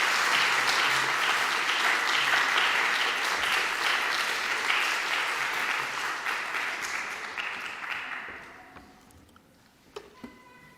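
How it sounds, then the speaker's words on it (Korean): A church congregation gives a dense, sustained round of applause to welcome a guest at a Sunday service, steady at first and then fading out, with a few scattered claps at the end. "귀한 걸음하셨는데 박수로 환영하겠습니다"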